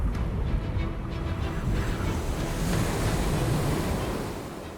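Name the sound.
ferocious storm at sea, waves and wind, North Sea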